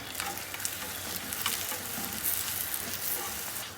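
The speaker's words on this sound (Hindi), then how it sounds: "बस में अब हम इसमें घी डालेंगे अपना।" A paratha fries in hot ghee in a pan with a steady, dense crackling sizzle, close and continuous, with faint scraping from stirring or moving it around.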